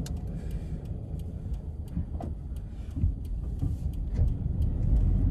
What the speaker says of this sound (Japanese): それでは BRZ を試乗してみたいと思います